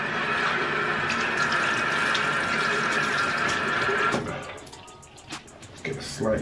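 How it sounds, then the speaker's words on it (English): Warm tap water runs steadily from a faucet into a sink while a face is rinsed, a loud continuous rush that cuts off partway, followed by splashes and drips. "now we're just gonna rinse it off with water"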